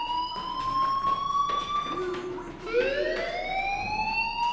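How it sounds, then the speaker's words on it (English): A game's fire alarm from Life is Strange wails steadily, its gliding, rising-and-falling siren tones filling the scene without break, loud and close throughout. "do you hear that fire alarm?"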